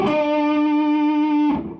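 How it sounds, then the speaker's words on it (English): A single sustained electric guitar note played through a distortion pedal with compression rings steady and rich in overtones for about a second and a half, then cuts off abruptly, alone with no talk. "Amazing things you can do with the distortion pedal, compression, sustain."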